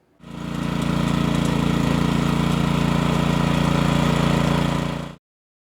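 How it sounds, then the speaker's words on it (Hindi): An Oleo-Mac rotary tiller engine runs steadily at a constant throttle, a loud buzzing small-engine drone that starts abruptly, holds for about five seconds and then cuts off. "एग्रीमार्ट इस ओलियोमैक रोटरी टिलर को पूरे भारत में बेचती है।"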